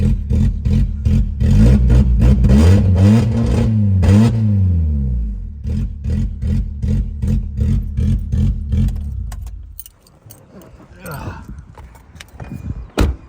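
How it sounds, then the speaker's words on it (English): Honda Accord engine running rough just after a valve adjustment, a loud uneven idle with surging revs for about ten seconds before cutting out, followed by quieter clicks and handling noises. "Okay, well, it runs. It's got compression."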